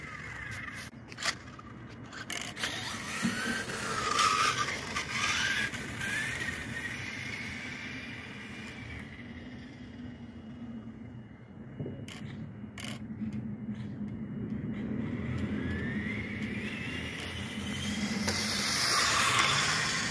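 Kyosho RC Toyota Tundra truck running at full throttle with a faulty gear, giving a whining, grinding drivetrain hiss, rising and falling with scrapes and clicks at close range.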